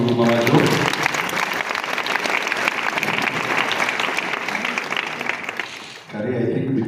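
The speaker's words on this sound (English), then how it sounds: "Let's give a big clap to Mama Joe" Loud, sustained audience applause at a family tribute gathering, a continuous crowd of clapping hands for several seconds, with voices speaking briefly at the start and again as it fades at the end.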